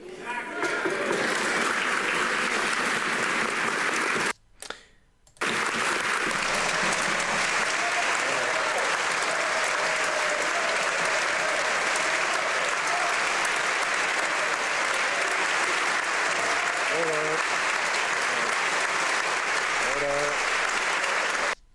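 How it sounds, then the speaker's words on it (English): Sustained, dense applause fills a parliamentary chamber, continuing for about twenty seconds and breaking off briefly partway through, with faint voices underneath. "they just keep clapping"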